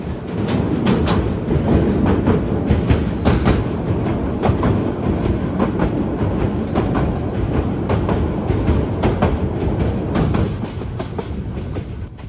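Onboard the Parjotak Express from Dhaka to Cox's Bazar, a loud, dense rumble and rapid clatter of wheels fill the span as the train crosses a bridge, with sharp rhythmic clanks repeating throughout.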